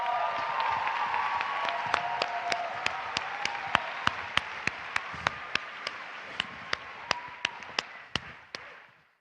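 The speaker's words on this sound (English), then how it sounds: "Huge round of applause." An audience at an Erasmus+ event applauds a speaker being introduced, a full, bright wash of clapping with a few sharper claps standing out, gradually thinning to scattered claps before stopping.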